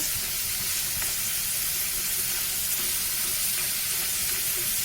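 French fries deep-frying in hot oil give a steady, dense sizzle and crackle that holds level for the whole stretch, close and continuous with no one talking.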